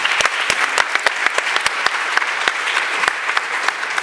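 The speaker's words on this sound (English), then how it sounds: "Applause for the video team." Steady applause from a conference audience at a deep learning meetup, many hands clapping continuously with a few sharper claps standing out, no voices.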